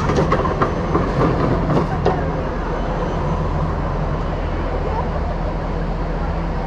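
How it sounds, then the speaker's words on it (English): A tram rumbles past nearby at night with rhythmic clicks early on, then a steady low drone; faint voices underneath. "I'm just waiting for this tram to come into frame."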